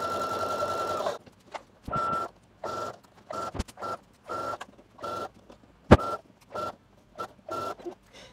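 A sewing machine stitches bias tape onto the back of a Simplicity 9888 button placket dress in several short, even runs separated by pauses, with one sharp knock near the middle and no talking.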